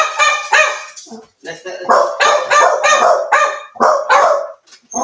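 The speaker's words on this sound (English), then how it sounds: "Oh, the dog wants to go out." Two Jack Russell terriers bark indoors, loud repeated yapping barks in bursts close to the microphone, with a person briefly talking between them.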